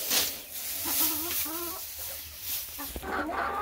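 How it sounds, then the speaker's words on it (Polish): Chickens clucking in a farmyard as a sack of feed is scattered for the hens, several birds calling close by in short repeated phrases over a low background rumble. "ja już puszczam te kury, bo mi rozsypują"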